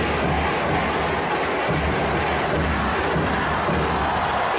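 A rival university pep squad crowd of UE and AdU supporters roars and cheers in a dense, continuous wash of voices, loud and sustained throughout with no pause.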